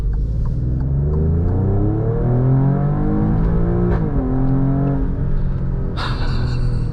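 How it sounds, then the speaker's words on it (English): A 2023 Alfa Romeo Stelvio Quadrifoglio SUV engine pulling hard in automatic mode, rising in pitch through a quick upshift with a brief drop, then climbing again before a sharp crackle near the end, loud and close from inside the cabin. "Those upshifts are something else too."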